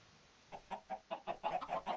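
Chickens in the game Minecraft cluck in a quick series of short, close, evenly spaced calls that grow slightly louder toward the end, heard alone without talk.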